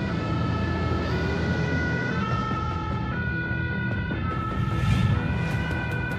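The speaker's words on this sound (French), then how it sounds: "Deux camions anti-incendie partent sur un gros sinistre." Two fire engines pull out on a call to a large shop fire on the Côte d'Azur, their wailing sirens steady and prominent over rumbling engines and road noise, with no talk.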